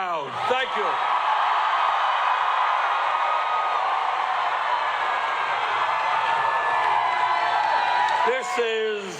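A large political rally crowd in Detroit cheers loudly and continuously, a sustained roar of many voices, framed by brief speech from a person at a microphone at the start and end.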